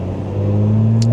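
A supercharged Lotus Emira engine, mounted right behind the cabin, holds a steady, loud, close droning hum that swells slightly as it revs.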